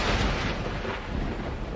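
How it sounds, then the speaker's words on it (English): Thunder from a nearby storm, heard as a loud, deep rolling rumble that fills the whole moment without a break, with no voices over it. "that storm sounds close."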